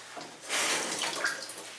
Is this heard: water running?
yes